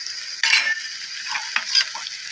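A utensil stirs ground spinach in ghee in a pan, giving a few short scraping strokes and soft sizzling bursts close by, with no talking.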